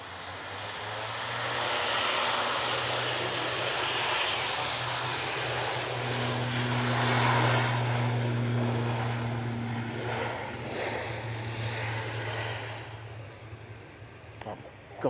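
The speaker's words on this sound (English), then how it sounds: "Got an Assault Falcon coming out." A Falcon business jet taxis out at Manchester Airport, its engines giving a steady droning rumble with a low tonal hum that swells midway and then eases, fairly close and continuous throughout.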